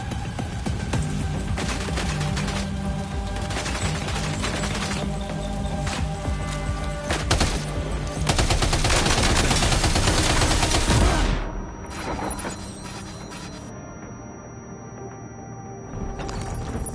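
Heavy, sustained machine-gun fusillade from the video game Death Stranding 2, loud continuous bursts for about eleven seconds, then fading to sparser shots and game sounds.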